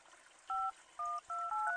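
Phone keypad in the game Monster Basement dials 911: three crisp dual-tone beeps in quick succession, close and clear over a quiet, dim background.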